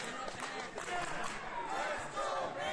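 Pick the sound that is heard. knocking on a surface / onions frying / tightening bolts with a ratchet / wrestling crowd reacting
wrestling crowd reacting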